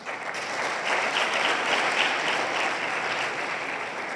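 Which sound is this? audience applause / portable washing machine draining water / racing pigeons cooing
audience applause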